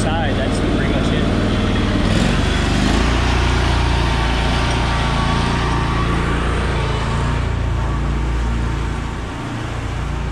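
Ferris Z3X 52-inch riding mower mowing a yard, a loud, steady engine drone close by that holds throughout and eases slightly near the end.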